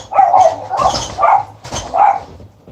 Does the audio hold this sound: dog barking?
yes